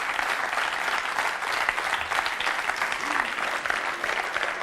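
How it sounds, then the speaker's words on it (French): A TV studio audience on a French entertainment show breaks into warm, sustained applause, a dense and even wash of many hands clapping at steady loudness throughout, with no talk over it. "on peut l'applaudir très chaleureusement"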